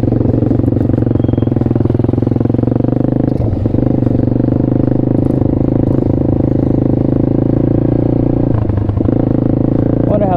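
An Apollo RFZ Chinese dirt/pit bike, after a repair, runs steadily close by. Its loud, buzzing single-cylinder note holds constant through the clip, with brief dips in the engine note at two points.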